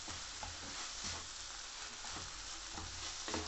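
Sliced cabbage sautéing in a pan for Schezwan noodles, a steady low sizzle with occasional soft scraping and tossing sounds, fairly quiet and continuous, with no talking.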